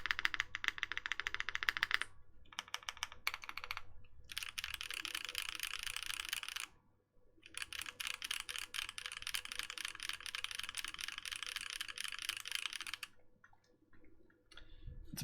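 Typing on a Zoom64 mechanical keyboard, a dense run of clacky keystrokes that continues with a few short pauses and stops briefly near the end, close and alone with no voices.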